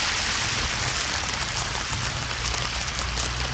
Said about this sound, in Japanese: もうだいぶ雨に変わっちゃってですね。